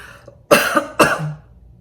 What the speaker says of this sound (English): you feel like you have to cough because you have a tickle in your throat